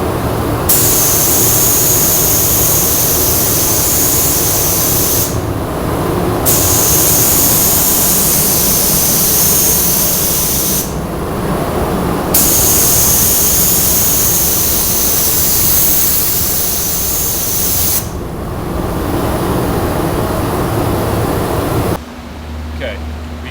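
Spray gun laying a primer coat onto a car body panel in a refinishing booth, a loud steady hiss in several long bursts separated by brief pauses.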